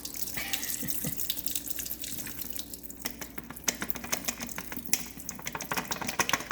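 Grease draining off cooked spaghetti sauce meat into a sink, a steady pouring, splashing stream with scattered drips, fairly close and alone without talk.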